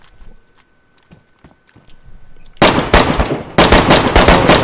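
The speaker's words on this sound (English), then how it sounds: "just fucking shoot him" Gunshots in the PS4 video game DayZ, starting with quiet scattered clicks and taps, then switching abruptly to loud, dense bursts of rapid fire in two close volleys.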